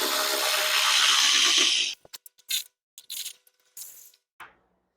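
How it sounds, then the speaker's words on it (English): Hand tools work the valve cover bolts on a Pontiac engine in a Firebird: a steady whirring run gives way to a string of short metallic clicks, ratchet taps and clinks, close and fairly quiet, with no talking. "Now we'll just take off the valve cover so we can watch that oil flow."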